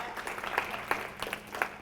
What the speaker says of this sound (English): Give another obligatory round of applause for Anthony for...